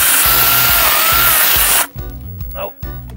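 An angle grinder chainsaw cuts a thorny bamboo pole of Bambusa blumeana, whining loud and steady, then dropping into bogging, stuttering pulses as the chain catches.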